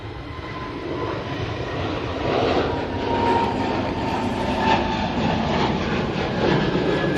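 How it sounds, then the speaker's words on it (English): An EasyJet airliner rolls down the runway for takeoff at Manchester, its engines a broad, steady roar that builds slightly and holds loud and fairly near, with no talking. "we do have an EasyJet rolling"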